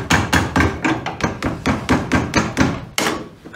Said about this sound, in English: we want to be careful with a hammer that we don't get any hammer marks on it